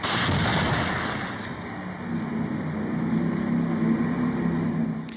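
Artillery fire on flat farmland of the southern front near Kherson, Ukraine, heard as a sustained, loud rumbling roar that swells and holds across the whole stretch, with no speech.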